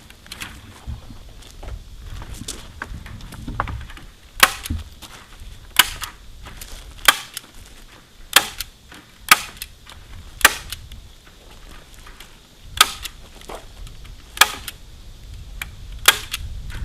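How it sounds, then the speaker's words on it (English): A staple gun fires into the boards of a portable wooden fence, about a dozen sharp, loud snaps spaced unevenly over faint background handling noise. "Now we'll staple this all in."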